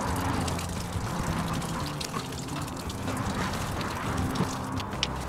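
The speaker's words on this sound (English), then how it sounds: "I'm amazed that radiator's still draining." Coolant draining from an old neglected farm tractor radiator, a steady trickling and splashing of liquid, close and continuous with no talk.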